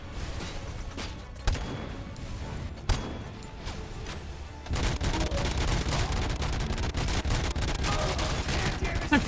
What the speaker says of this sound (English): It's a sniper rifle, but instead of like having like 50 cal rounds or something, it's a rocket.